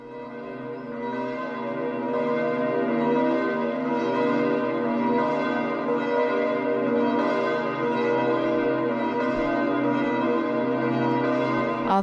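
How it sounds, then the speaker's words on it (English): The bells of St. Peter's Basilica in Vatican City ring continuously, a rich steady peal of overlapping tolls with a regular pulsing rhythm, heard clearly in open air with no talking. "We hear the bells of St. Peter's now ringing."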